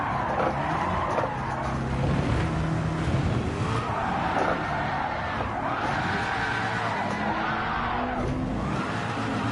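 A race car in Gran Turismo 7 spins through a full 360, tires skidding and squealing in long sweeping wails over a steady engine roar, loud and close throughout with no voices.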